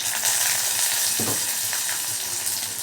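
Peanuts and tamarind roast in a pan with a steady close sizzle and light stirring scrapes, a brief louder scrape near the middle.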